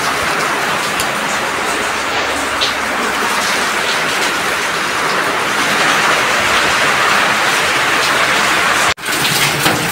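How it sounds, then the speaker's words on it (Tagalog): Heavy typhoon rain from Enteng pours down in Valenzuela as a loud, continuous, dense hiss with no break until a brief dropout near the end, with no talking. "Grabe, lakas ng ulan."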